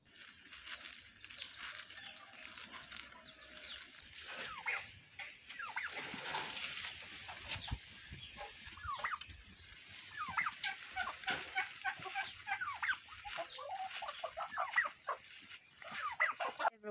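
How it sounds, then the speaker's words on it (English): Backyard chickens clucking and calling in short repeated bursts, rather faint and scattered across a quiet outdoor background. "this very beautiful sunflower dried up and I ended up feeding it to the chickens."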